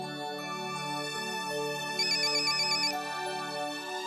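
A phone plays a melodic electronic ringtone that repeats steadily, loud and close. It carries on for the whole stretch with no talking.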